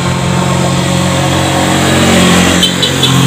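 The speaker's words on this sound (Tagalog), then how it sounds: "Umangkas ka na agad sa motor." A motorcycle engine runs loud and close with steady revving throughout, its low hum continuous, heard at a rural roadside in the Philippines.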